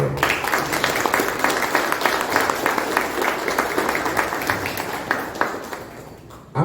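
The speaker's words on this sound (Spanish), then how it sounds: "Para los 4 pedimos un fuerte aplauso, por favor" Dense, steady applause from an audience at a book presentation, a continuous wash of many hands clapping that holds strong for the whole stretch before thinning slightly at the end.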